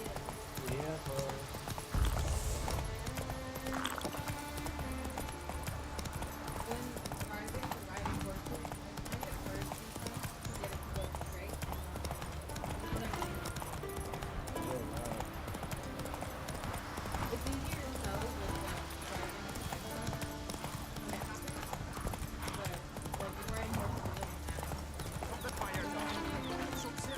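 Rapid rhythmic hoofbeats of a galloping horse in the video game The Witcher 3 run throughout alongside game music, with someone talking over them.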